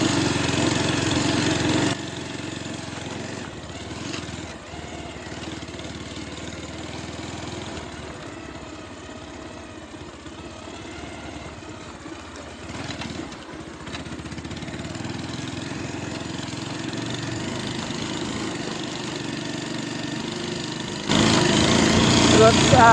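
A small motorcycle engine runs steadily close up throughout, with a louder rev at the start and end and a softer stretch in the middle, while someone talks over it.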